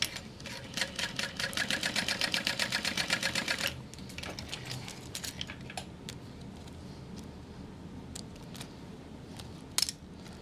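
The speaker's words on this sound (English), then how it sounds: "I'm going to sew along the bottom edge" A home sewing machine stitches fabric card slots with a fast rhythmic burst of needle strokes lasting a few seconds. It then stops, leaving quieter clicks and handling noises.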